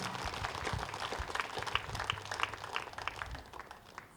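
Audience applause for the speaker Shivaprasad at a meditation week gathering in Raichoti, a steady crowd clapping that fills the hall throughout at moderate level, with no talk over it.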